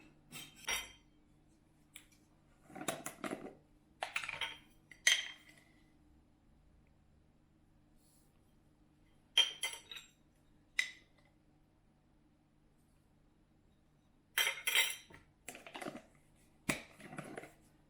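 Cornmeal layered in a glass jar for a homemade Christmas gift mix, shaken to level it: short bursts of gritty rattling and light glass clinks, each lasting about a second and separated by quiet gaps, close and fairly soft.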